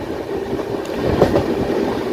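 The Darjeeling Mail runs on rails through heavy fog, a loud, steady rumble of wheels and carriage noise heard from inside a general coach, with no voices.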